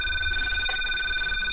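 An analog telephone ringer rings with a steady electronic tone, continuous and fairly loud throughout the short moment.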